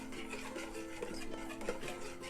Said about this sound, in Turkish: ben artık şöyle çırpıcıyla karıştıracağım